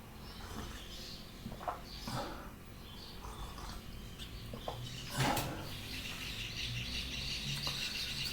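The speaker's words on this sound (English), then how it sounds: "The birds are singing." Faint birds chirp and tweet outdoors, scattered short calls over a background hum, with one louder call partway through.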